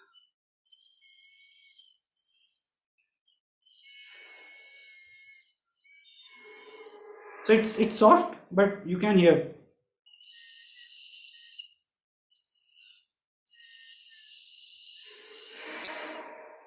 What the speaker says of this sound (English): but this is also sort of a whistle.